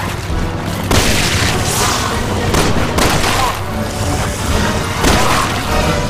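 Gunshots in the video game Resident Evil 6, with loud booming blasts over a dense, noisy game soundscape and a few sharp reports standing out.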